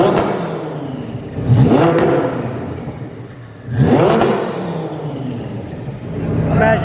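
A twin-turbo Lamborghini engine is fired up, then given two sharp, loud revs that climb and fall, a steady deep idle rumbling between them.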